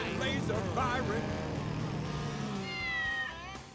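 A cartoon cat meows and caterwauls in drawn-out, wavering cries, mixed with voices and engine-like noise.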